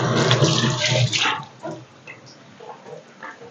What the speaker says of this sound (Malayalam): നമുക്ക് ഈ പച്ചമുളക് കഴുകി അതിനകത്തോട്ട് അരിഞ്ഞിടാം